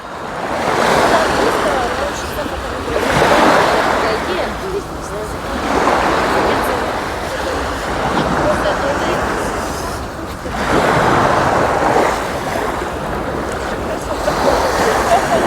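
Sea waves roll onto the shore at Langeron beach in Odesa, loud and close, swelling and breaking in a slow rhythm every few seconds with wind buffeting the microphone.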